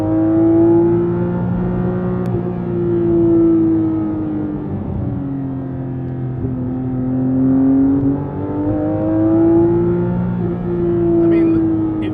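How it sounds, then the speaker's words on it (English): Loud, close engine note of a Porsche 992 GT3 RS driven fast, a sustained high-revving howl that rises and falls in pitch through repeated swells with no break. "that's how loud and how visceral this car is"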